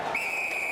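A referee's whistle at a college ice hockey game, Boston University versus Boston College in a Hockey East semifinal, one steady shrill blast held over faint arena crowd noise.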